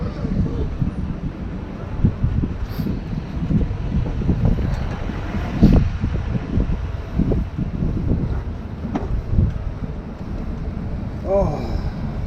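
Steady roaring wind buffets the microphone on a motorcycle ride through New Mexico, a loud continuous rumble with gusty swells throughout and no clear speech.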